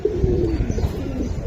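Giribaz pigeons coo nearby, a low drawn-out throaty call rolling over soft background rustle.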